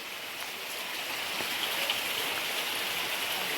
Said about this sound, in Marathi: धबाधब पाऊस पडतोय त्याच्यात